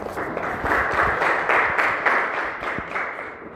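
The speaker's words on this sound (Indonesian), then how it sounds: "tepuk tangan." An audience claps hands during a lecture for a lecturer certification session, a short burst of moderately loud, fairly rhythmic clapping that fades near the end.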